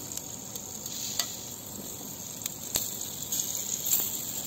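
Green chillies frying in a little oil in a pan give a steady, soft, close sizzle with faint crackles throughout, and no one speaks.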